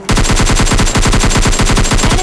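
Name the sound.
gunfire in a mobile shooting video game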